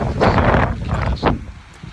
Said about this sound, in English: You can see it's very, very windy.